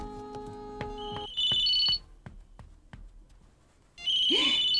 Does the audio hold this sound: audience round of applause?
no